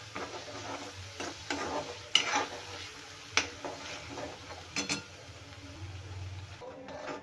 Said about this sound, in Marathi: आता हे मसाले आपल्याला तेलामध्ये छान भाजून घ्यायचे आहेत.